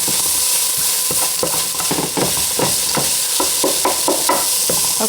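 Meat sauce with coriander is stirred in a hot pan, a loud close sizzle broken by repeated scraping strokes of the spoon in an uneven rhythm, with no one speaking.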